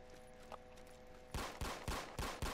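Rapid gunfire from a video game, Roblox Special Forces Simulator, cracks out in about six sharp, evenly spaced shots after a quieter stretch, loud and close, with no talk over it.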